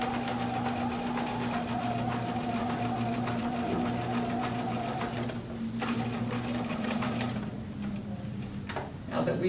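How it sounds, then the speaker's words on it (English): Sewing machine running steadily to stitch a welt seam with a 1/2 inch seam allowance, including a backstitch, humming continuously with a rhythmic mechanical whir and brief pauses near the end. "We're going to back stitch, and then we're stitching our 1/2 inch seam allowance."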